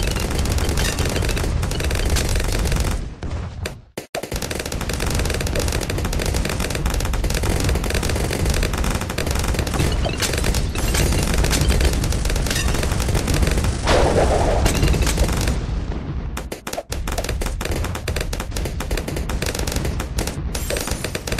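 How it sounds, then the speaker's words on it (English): Turbo damage laser bombs firing in the Bloons TD6 video game: a relentless, dense barrage of rapid blasts and pops, loud and continuous, broken by only a couple of brief pauses. "Turbo damage laser bombs!"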